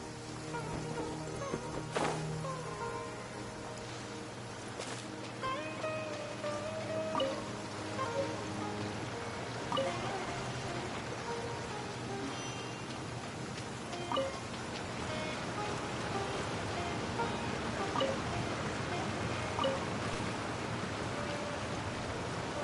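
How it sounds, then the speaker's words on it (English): A rain downpour in the video game Genshin Impact makes a steady, even hiss throughout, with faint tonal game sounds under it. "Taking a stroll in the middle of a downpour certainly rouses the spirit."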